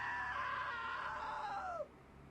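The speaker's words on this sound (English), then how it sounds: "Now that was a great scream." A woman's long, loud scream in What Remains of Edith Finch, held steady for nearly two seconds before sliding downward and cutting off abruptly, leaving quiet.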